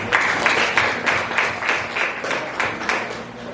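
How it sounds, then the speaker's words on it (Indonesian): Students in a classroom applaud together, a dense run of clapping with steady rhythmic pulses that fills the room for a few seconds, with no talk over it. "Oke, kasih tepuk tangan dulu."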